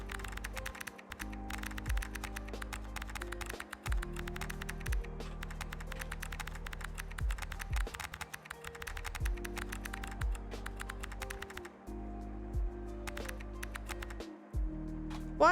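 Rapid, continuous clicking of keys on a computer keyboard, steady and close, with brief pauses between bursts over a low background hum.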